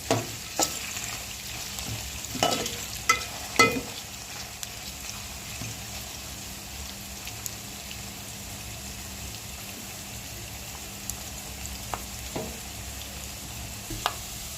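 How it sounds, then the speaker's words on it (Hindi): Peanuts and green chillies fry in a pan as a constant low hiss, with a few knocks from stirring early on before it settles into an even sizzle. "देखिए, हमने इसमें 3 मिनट ये सेंग को अच्छी तरीके से इसमें भून लिए।"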